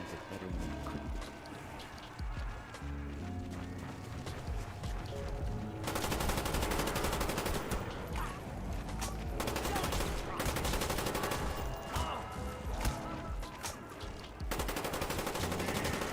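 Gunfire in the Call of the Dead zombies map, dense rapid bursts of automatic fire layered over game music and effects, continuous and loud throughout.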